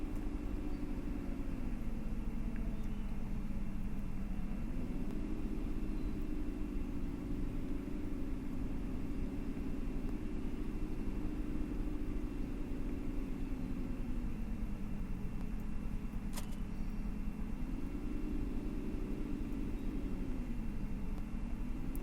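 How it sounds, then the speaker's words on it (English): A Chevy/GMC diesel truck engine in Farming Simulator 2015 drones steadily and loud, its low pitch rising and falling gently as revs shift, with a brief click partway through. "I think this might be a diesel truck. I mean, I think it'd have to be. It sounds like one."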